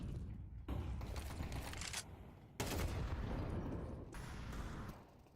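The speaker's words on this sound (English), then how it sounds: "Pistols push through. Nice shots from Magis." Rapid bursts of pistol gunfire from a Counter-Strike match fill the clip, dense crackling volleys in two or three loud stretches with brief gaps, no talk over them.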